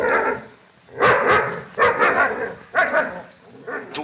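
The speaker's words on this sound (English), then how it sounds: "Go on, grab hold of that dog." A dog barks in several loud, close bursts with short pauses between them, in a 1930s British Hitchcock mystery scene.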